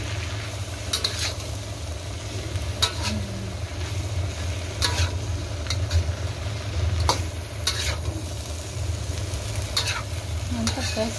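Young jackfruit stir-fries in a pan with dried shrimp, giving a constant crackling sizzle under a low hum, with repeated scraping strokes of a spatula every second or two.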